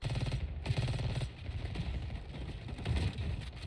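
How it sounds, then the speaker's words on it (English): Automatic gunfire from the Call of Duty Black Ops 6 campaign, rhythmic bursts of rapid shots that pause and start again over a dull background rumble, loud and unaccompanied by speech. "that boy got some recoil on that gun"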